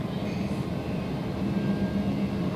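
Embraer E175 jet engines spooling at takeoff power in the X-Plane 11 simulator, a steady, dense low rumble and roar holding at constant loudness throughout.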